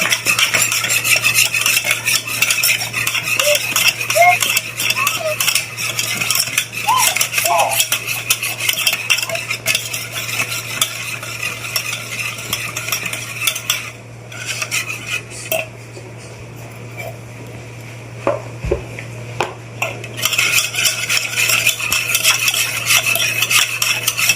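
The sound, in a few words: stirring dhokla batter after adding turmeric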